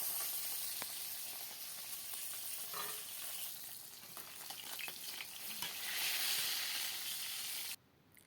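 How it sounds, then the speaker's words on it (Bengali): Taki fish frying until crisp in hot oil, a steady close sizzle and hiss with faint pops and stirring scrapes that runs throughout before cutting off abruptly near the end. "এই টাকি মাছগুলো ভালো করে কড়া করে ভাজবো।"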